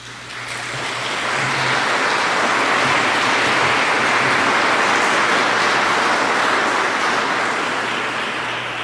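A church congregation at a Sunday Mass bursts into sustained applause, a dense wash of clapping that swells within the first second, holds steady and loud, then begins to taper near the end.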